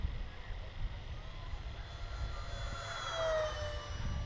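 A Tech-One Neptune EDF wing RC plane flies at full throttle, its ducted-fan whine rising in pitch and swelling louder toward the end as it passes, heard from the ground over faint wind.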